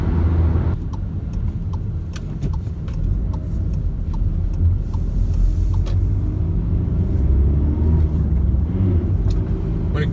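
A Škoda Karoq Style 2.0 TDI 4x4 diesel accelerating, heard from inside as a steady low engine rumble with a slowly rising drone and scattered light clicks and ticks over it.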